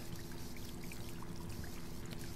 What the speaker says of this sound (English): So I'm losing water here